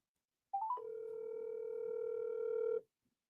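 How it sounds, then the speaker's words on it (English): A phone call on speakerphone gives a single steady electronic ringback tone lasting about two seconds, clear and close, then cuts off into silence. "Let me see if I can call him."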